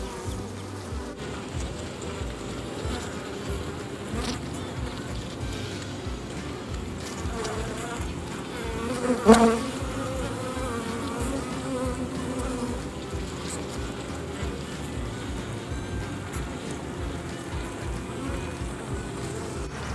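Honey bees buzzing around an open beehive being split, a dense continuous drone close by with one brief louder thump midway.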